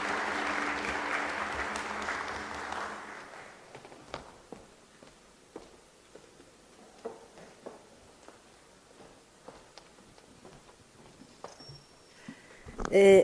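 Audience clapping as a professor joins the stage at a higher-education event, a brief burst of applause at the start that quickly fades into scattered footsteps and small taps, with a voice near the end.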